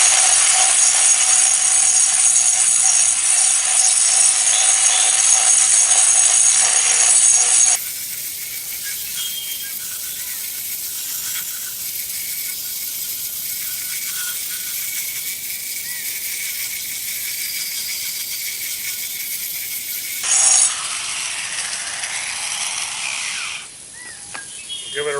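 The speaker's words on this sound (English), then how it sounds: "So here we go with a wet grind." Concrete surface under a wet grind with a 4-inch turbo diamond cup wheel on an angle grinder, a steady loud high-pitched whine that drops in tone partway through as the wheel bites, then briefly rises again near the end.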